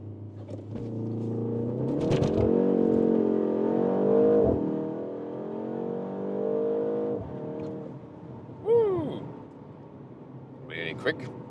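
A BMW M135 hot hatch launches hard under launch control, its engine droning loud and steady as revs climb through the gears, with a voice talking over the rising note and brief shifts in between.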